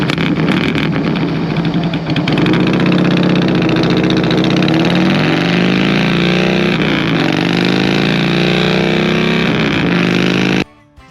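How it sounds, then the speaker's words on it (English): A Harley-Davidson Heritage Softail Classic with a loud aftermarket exhaust rumbles steadily up close at idle, deep and continuous, before cutting off abruptly near the end. "And this exhaust is crazy loud."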